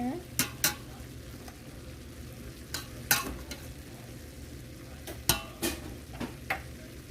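Pepper cooks in a pan on medium heat for fideo, a low steady sizzle under several sharp scrapes and clinks of a utensil against the pan, close and without talk.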